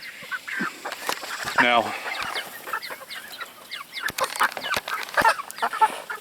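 Polish chickens with poofed crests cluck and squawk nearby in a flock, with irregular calls and one longer rasping cry, while a person talks briefly.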